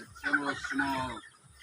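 A chicken clucks twice in quick succession nearby, short throaty calls with a quiet pause after.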